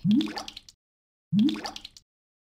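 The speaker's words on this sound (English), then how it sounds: "Put 8 pieces of celery into the blender." In a kids' counting video game, celery pieces drop into a blender with two identical short squishy plops, each a quick wet splat followed by silence.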